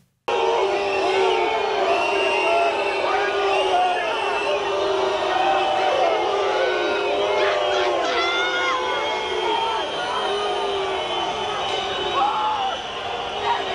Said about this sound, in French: les huées subies par Emmanuel Macron.